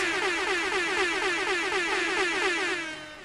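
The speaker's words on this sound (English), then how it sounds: "Nothing but kudos and congratulations and all the air horns. All the air horns." An air horn sound effect, triggered from a Stream Deck, blares in rapid repeated pulses, loud and continuous, then cuts off.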